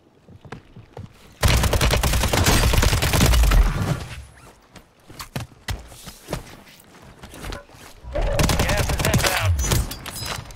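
SMG fire in Call of Duty Rebirth: loud, close bursts of rapid automatic shots in two long volleys, with scattered single shots and footsteps between them, and some voice chatter underneath.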